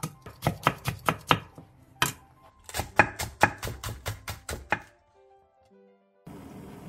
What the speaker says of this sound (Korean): 양파 4분의 1개와 당근 2장을 얇게 채 썰고 청양고추 1개와 홍고추 3분의 1개, 대파 조금은 길게 반으로 가른 뒤 쫑쫑 썰어주세요